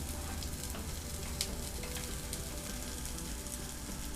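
Green peppers sizzle in butter on a flat griddle, a steady close frying hiss with occasional faint pops and no talking.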